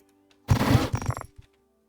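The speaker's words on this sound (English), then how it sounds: "Yeet cannon has missed again over here." Yeet cannon in the mining game Hydroneer firing once, a loud, harsh blast that rattles on for nearly a second, followed by a couple of short thumps and then quiet, with no talking.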